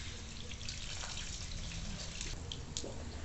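Dirty coolant drains from the radiator of a Yamaha Fazer 600 motorcycle, dripping and trickling close by in a steady watery patter with a few sharper drops near the end.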